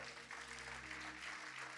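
Congregation applauding in a church service, a steady wash of clapping from many hands that fills the whole moment, with a low hum and faint tonal background beneath it.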